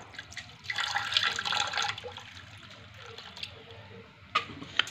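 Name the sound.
pouring water into a pot over sugar for honey syrup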